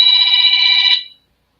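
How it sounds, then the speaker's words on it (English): A telephone rings once, loud and close, a bright electronic trill lasting about a second before cutting off into silence. "I've got to answer a phone call."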